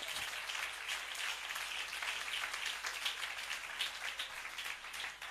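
A church congregation applauds together, a continuous dense patter of many hands clapping at a moderate distance, fairly quiet and without speech.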